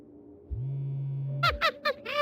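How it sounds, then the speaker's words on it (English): A phone buzzes in a spooky video game: one sustained low vibration of about a second, followed by a few short bright chime-like tones. "your thoughts are interrupted by a buzz of your phone"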